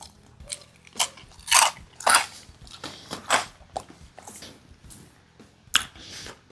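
Crunchy wood-smoked braai pork belly crackling being bitten and chewed, a run of loud, sharp close-up crunches in irregular bursts with no talking.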